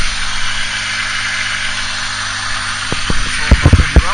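A 1998 Honda Civic DX with a newly installed full exhaust idles with a steady, loud droning rumble, joined near the end by a few short thumps and rattles close by.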